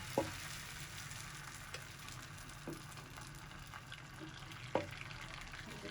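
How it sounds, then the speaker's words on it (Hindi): An egg frying in oil in a frying pan gives a soft, steady sizzle with a few faint clicks and taps over it. There is no speech. "अब इसमें हम अपना अंडा फ्राई कर लेंगे।"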